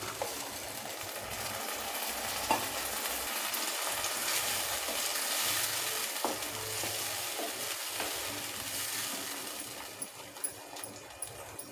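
Steady frying sizzle with stirring and scraping in a pan, tomato puree poured in and bubbling, for a banana flower dumpling curry, close and fairly loud with no voices.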